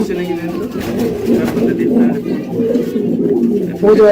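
A pair of red pigeons on a farm coo continuously close by, soft repeated throaty calls overlapping one another.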